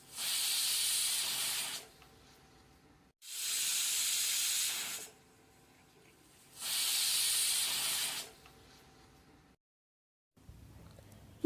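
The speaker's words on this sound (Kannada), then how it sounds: "4 ವಿಷಲು ಕೂಗಿಸ್ಕೋಬೇಕು." A pressure cooker cooking dal lets out three long, loud hissing whistles, evenly spaced with short quiet gaps between them, then a faint clatter at the end.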